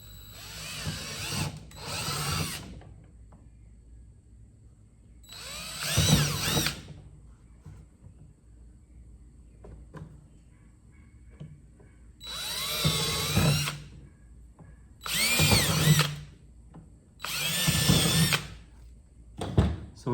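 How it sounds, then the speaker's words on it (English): A power drill bores holes in a DIY kayak crate, whining in several separate bursts of a second or two each with quiet gaps between them. "So we've got our holes drilled in the bottom."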